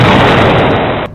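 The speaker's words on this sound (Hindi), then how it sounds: "टारगेट लॉक होता है और तभी होता है एक जोरदार धमाका।" A drone strike on a weapons depot sets off a loud, broadband explosion that fills the whole second as a sustained roar, then cuts off abruptly at the end.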